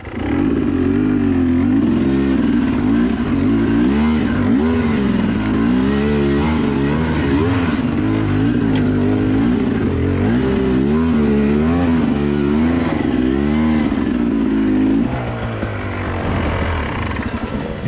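A dirt bike engine revs hard on a trail ride, its loud, close drone rising and falling with throttle changes and staying continuous throughout, easing off near the end.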